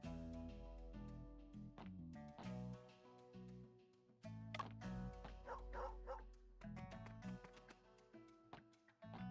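Repeated short yips and barks from a dog in the game Murders on the Yangtze River come through over a steady musical soundtrack, several bursts clustered near the middle of the stretch.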